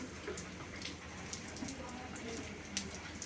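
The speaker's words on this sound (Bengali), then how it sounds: "বৃষ্টিই কমে না" Soft, steady rainfall patters in the background, with occasional brighter drips landing nearby; fairly quiet and continuous.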